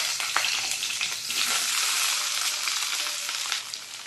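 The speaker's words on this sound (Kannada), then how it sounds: "ಇಲ್ಲಿ ಎಣ್ಣೆ ಬಿಸಿ ಆಗ್ತಾಯಿದೆ. ನಾನು ನೀರುಳ್ಳಿ ಹಾಕ್ಕೊಳ್ತೀನಿ" Chopped onions hit hot oil and sizzle loudly up close, a bright crackling hiss that holds steady for a few seconds without any voice.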